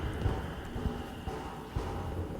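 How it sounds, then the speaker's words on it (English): Hooves of a big horse clip-clop in the Mouthwashing video game, a slow, uneven series of soft thuds heard close over a steady low background hum. "It's a big horse."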